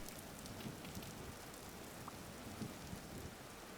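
Steady, soft video game rainfall in Vintage Story patters continuously with occasional slightly louder drops, a quiet even hiss and no voices.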